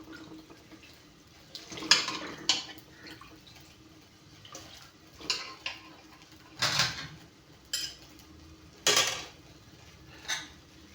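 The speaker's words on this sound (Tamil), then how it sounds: "தக்காளி கழுவிட்டு இருக்கேன்." Tomatoes being washed in water, with sporadic splashes and clinks of produce against a pot or bowl, close and intermittent with quiet gaps between.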